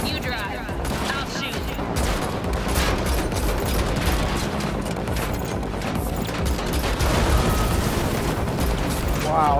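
Dense gunfire and explosions fill a car-chase shootout in The Matrix Awakens, an Unreal Engine 5 demo on PS5, with a constant loud barrage of shots and booms running the whole time under game voices.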